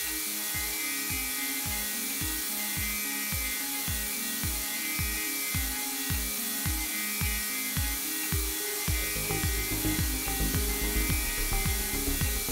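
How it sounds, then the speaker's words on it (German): A Felder HNC 47.82 CNC machine fine-mills a wooden jazz bass guitar body with an 8 mm radius cutter, giving a loud, steady whirring with rapid rhythmic pulsing passes that shift in tone partway through, with no voices. "Und danach das Feinfräsen mit dem 8 mm Radiusfräser."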